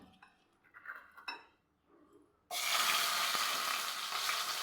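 A few soft clinks of a spoon and pan, then a loud, sudden sizzle as tempering spices hit hot oil, crackling steadily to the end.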